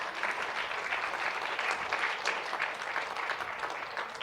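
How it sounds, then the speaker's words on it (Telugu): A church congregation at a Catholic service clapping loudly together, a dense continuous wash of many hands sustained for several seconds, with a faint voice underneath. "ఆ దేవునికి గట్టిగా చప్పట్లు కొట్టాడు"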